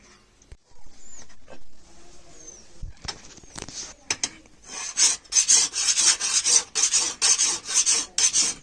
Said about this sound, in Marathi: आता हे धार काढून घ्यायचे आहे ना नवीन कानास आणि कानासने धार करून घ्यायची